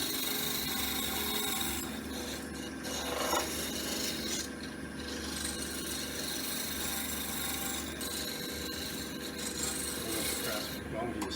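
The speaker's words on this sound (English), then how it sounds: "That's just a scraper you're using there, John?" A hand scraper rasps steadily across a wooden ornament, a continuous close scratching that runs through the whole stretch with little pause.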